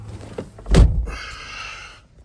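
A 2006 Jeep Liberty door gives a single solid thunk as it shuts, followed by a brief mechanical whir, close and clear with no talking.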